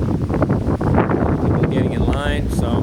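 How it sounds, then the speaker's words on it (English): Wind gusting across a car ferry boarding line by choppy water, a steady, loud broadband rush buffeting the microphone throughout, with faint voices mixed in. "You can probably hear the wind."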